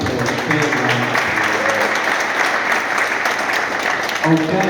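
Audience applause at a Manchester City football development programme graduation award, a steady, loud round of clapping from a room of people, with voices murmuring underneath throughout.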